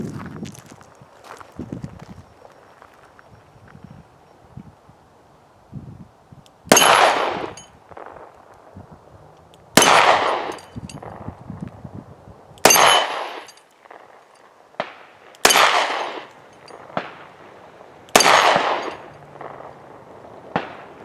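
Five loud, sharp shots from a S&W Model 60 .357 Magnum snub-nose revolver, spaced about three seconds apart after a quieter stretch of handling noises, each crack decaying quickly.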